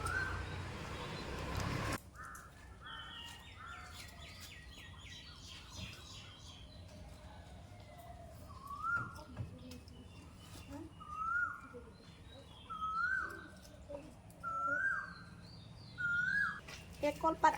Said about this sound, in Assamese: আমাৰ ঘৰৰ চাৰিওফালে কুলিৰ মাত